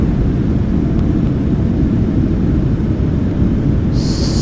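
An airliner rolls down the runway after landing, braking and slowing, with a loud, steady low roar and rumble filling the cabin; a brief high tone appears near the end.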